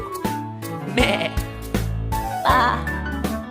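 A singing voice imitates goat bleats in a preschool farm-animal song, three strong, wavering 'meh' calls over a bright musical backing.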